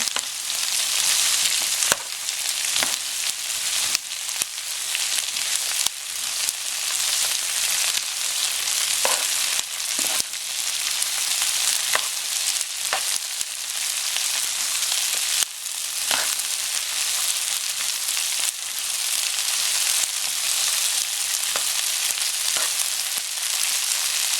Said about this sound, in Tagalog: Haluin natin mabuti itong sitaw.